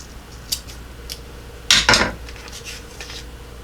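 Scissors snip through a paper strip for a pop-up card, one crisp double cut standing out among a few faint light taps and rustles, close and quiet with no talking.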